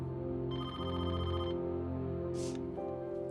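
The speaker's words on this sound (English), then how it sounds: "she was back checking the emails when the phone started to ring." A telephone rings nearby in a home, giving an electronic ringtone with repeated tonal bursts that sound loud and alone, with no voices over it.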